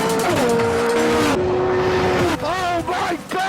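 Caparo T1 supercar accelerating hard, a loud, close engine howl climbing through rapid gear changes with brief dips between shifts, ending with shorter revving bursts.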